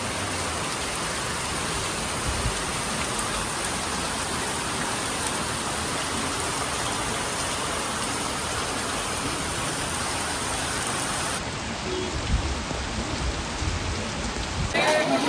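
Heavy rain falls steadily at Jyotiba hill temple near Kolhapur, a broad, continuous hiss of downpour on surfaces that stays even and fairly loud for the whole stretch.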